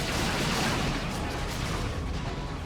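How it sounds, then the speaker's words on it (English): Barbed strangler shots hit Sentinel walkers in a Dawn of War 2 battle between the Imperial Guard and the Tyranids, a dense, steady rumble of booming impacts and artillery-like bursts that continues throughout. "Now taking some barbed strangler hits."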